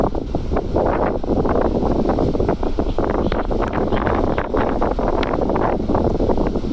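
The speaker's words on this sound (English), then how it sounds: "I think it's still a little bit breezy" Wind gusting outdoors on a breezy day by the water, a steady rushing buffet against the microphone with rumbling low-end bursts, continuous and fairly loud with no speech.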